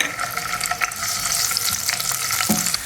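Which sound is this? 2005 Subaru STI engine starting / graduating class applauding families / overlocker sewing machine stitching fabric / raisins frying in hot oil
raisins frying in hot oil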